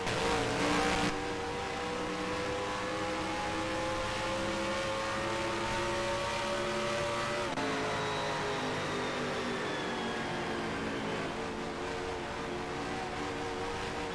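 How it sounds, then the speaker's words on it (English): A NASCAR Cup race car in NASCAR Racing 2003 at Dover Motor Speedway on old tires, its engine droning loud and close with pitch rising and falling as the throttle is worked through corners, a sharp lift and re-acceleration midway. "Listen to how he plays with throttle going through these corners here on these old tires."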